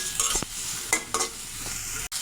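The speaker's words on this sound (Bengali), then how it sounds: "এবার মাছগুলো আমি ভেজে নেব।" Prawns coated in turmeric and salt frying in mustard oil: a continuous sizzle close by, with a few quick spatula scrapes and stirring knocks, and a brief dropout near the end.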